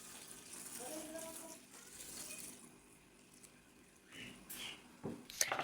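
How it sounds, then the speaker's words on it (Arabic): Lukewarm water pours over long-grain basmati rice set to soak in a kitchen, a soft, faint gushing and splashing that swells briefly near the end of the clip. "مي فاترة."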